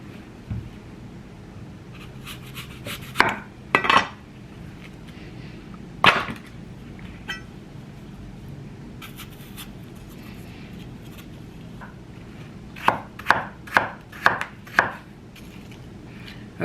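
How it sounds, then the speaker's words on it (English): Knife work on apples in a home kitchen, heard as sharp isolated cuts against a board, a couple early on, one in the middle, then a quick run of about six cuts near the end over a quiet room background. "So now I'm going to begin to peel the apples."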